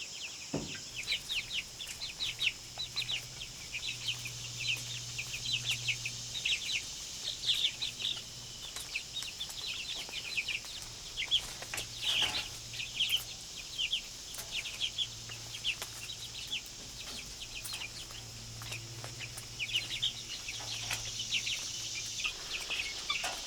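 Ranger chickens cluck and chirp in a steady scatter of short calls over quiet outdoor background, fairly close and continuous, with no one talking.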